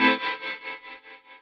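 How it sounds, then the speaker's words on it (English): Electric guitar played through a Kemper Profiler amp profile with tremolo placed behind spring reverb, a sustained chord pulsing in steady rhythmic waves that gradually fade, alone and up close. "reverb with tremolo"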